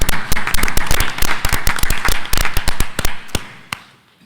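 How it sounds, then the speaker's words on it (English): Applause from a small group at a school board meeting: dense, sharp claps ringing out together, then thinning to a few scattered claps and dying away. "join me in another round of applause from a smaller group"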